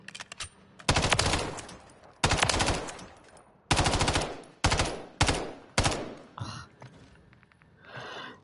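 Bursts of automatic gunfire from a gun in Call of Duty MW3, about six loud sustained volleys separated by short pauses, with faint sighs and breaths between them.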